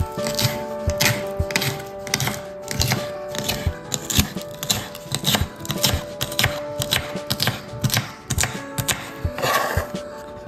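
A knife chops fresh chillies on a board in steady, rapid strokes, close and fairly loud, with faint background tones running underneath.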